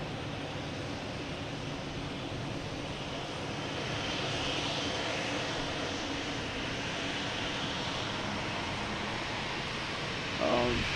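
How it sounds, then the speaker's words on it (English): An Alaska Airlines jet arriving at Logan Airport gives a steady, distant broadband roar that swells slightly midway and holds to the end, with faint voices in the background. "We have the Alaskan Airlines coming in."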